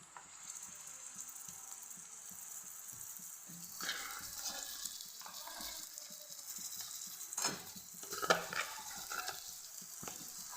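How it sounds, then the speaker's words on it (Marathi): Chopped onion sautéed with ground masala paste in a pan, steady sizzle with scraping and clinking stirring strokes close by, growing busier midway. "हा कांदा छान परतून झालेला आहे यामध्ये टाकून घेणार आहे मी हे आपण केलेलं वाटण"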